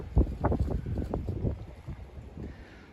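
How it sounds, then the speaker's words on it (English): Wind gusts buffet the microphone at a fishing creek in spring, a close, loud, low rumbling roar of uneven blasts that eases off slightly toward the end. "Of course, here comes that wind."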